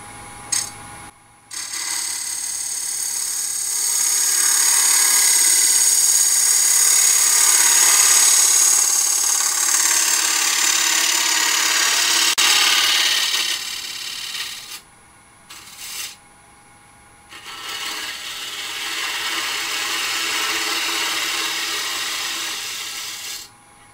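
Wooden biscuit cutter being turned on a lathe with a flat scraper, thinning its walls: a steady, loud whirring scrape with high ringing tones that runs about thirteen seconds, stops, then resumes in shorter bursts.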